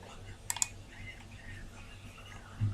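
A computer mouse gives a quick double click, two crisp, faint taps close together, followed by quiet room tone.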